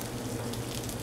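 Sesame-crusted ahi tuna sears in a hot pan, giving a steady, close sizzle and crackle that holds evenly throughout with no voices.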